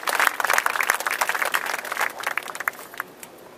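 A crowd at a justice march for Trayvon Martin breaks into applause, a dense burst of clapping that is loud at first and then gradually thins and fades over a few seconds.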